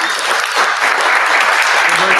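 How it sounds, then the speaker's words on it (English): Meetup audience applauding for the whole two seconds, a dense, even clatter of hands from a roomful of people, loud and close. "Round of applause for them."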